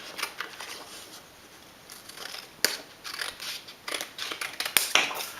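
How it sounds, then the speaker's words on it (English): Scissors snip around the outside edge of a handmade flower card, a close series of short, crisp cuts with brief pauses between them and no talking. "I will go ahead and cut right around the outside of my card"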